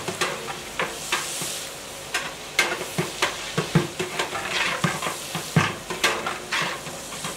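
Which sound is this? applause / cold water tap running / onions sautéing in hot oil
onions sautéing in hot oil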